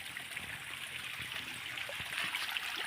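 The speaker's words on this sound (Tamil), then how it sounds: "பைப் வழியாக தண்ணி ஓடிட்டுருக்கு கொல்லைக்கு" Water running steadily through a pipe into a farm field on a hot day, a continuous near trickling and gushing flow with no talk.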